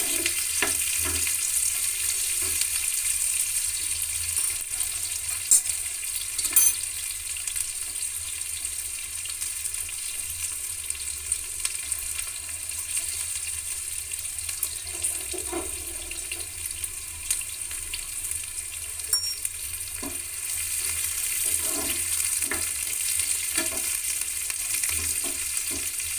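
Green chillies sizzle in hot oil in a pan alongside onions for a hotel-style dosa potato curry, giving a continuous hiss with scattered pops and light stirring clinks.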